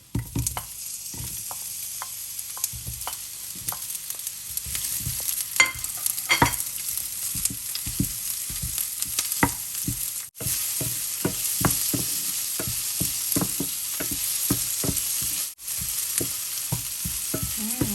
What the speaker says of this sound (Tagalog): Ang bango talaga ng bawang at sibuyas pagka ginigisa, no?